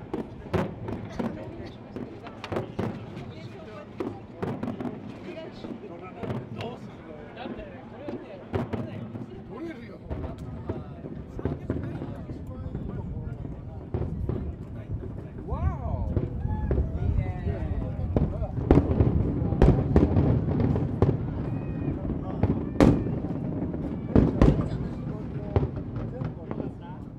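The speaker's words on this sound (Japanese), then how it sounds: "始まりましたよ、花火が。" Scattered booming bursts of fireworks go off irregularly in the distance, growing denser toward the end, while people talk nearby throughout.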